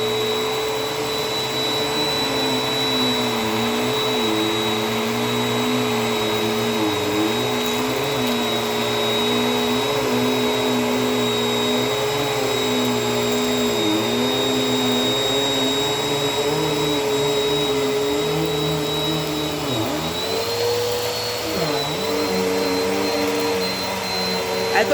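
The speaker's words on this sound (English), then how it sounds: "Let's see what goes in the vacuum." A new Bissell vacuum cleaner runs continuously, a loud steady motor whine and airflow roar with slight pitch wavering, dipping briefly near the end as it picks something up.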